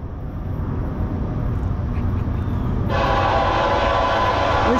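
Norfolk Southern freight train 29J rolling past up close with a steady loud rumble, its horn cutting in partway through and holding to the end.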